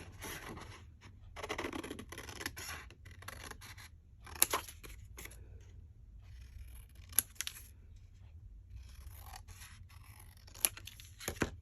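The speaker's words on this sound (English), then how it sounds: "Let's cut out a few." Scissors snip and slice through paper pieces for a craft notebook, close and soft, with scratchy cutting runs broken by pauses and a few sharp clicks of the blades.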